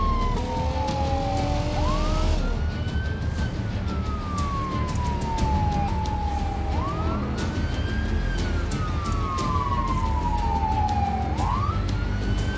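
A police cruiser siren in the video game BeamNG.drive wails continuously, sweeping up and down in slow repeating cycles over a steady rumble of traffic noise.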